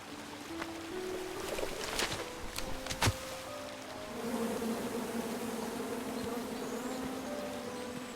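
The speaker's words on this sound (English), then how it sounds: "And then you chop down the tree full of angry bees?" Angry bees buzz steadily from a tree in the video game King's Quest, a continuous droning hum with a few sharp knocks partway through, loud and close with no talk.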